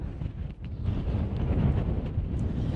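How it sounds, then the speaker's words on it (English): Steady wind gusting into the microphone outdoors, a low continuous roar with no voices. "it is a little bit windy out here"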